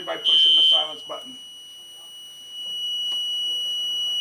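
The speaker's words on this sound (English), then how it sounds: "Again, you can hear how loud it is, so we want to immediately silence the alarm" A building fire alarm system sounds a loud, steady high-pitched electronic tone for about a second, then drops to a fainter continuous tone as the alarm is silenced, with a person talking over it.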